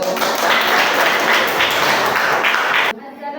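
Dense, loud applause from a classroom audience after a student group presentation, steady for nearly three seconds before cutting off abruptly into quiet.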